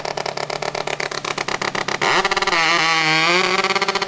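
Rotary-engine hot saw, an Eichsrow rotary, at the STIHL Timbersports New Zealand Men's Championship 2025: rapid popping idle pulses, then a loud, sustained high-pitched scream as the engine revs and bites into the log, close and alone.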